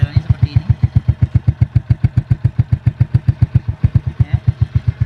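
SM Classic motorcycle engine idles close by with an even, rapid thumping rhythm that stays steady for several seconds, while a person talks over it.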